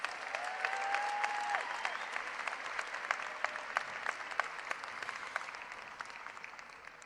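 Audience applause at a secondary school graduation ceremony, dense clapping from a large crowd with a few sharp individual claps standing out, gradually thinning toward the end.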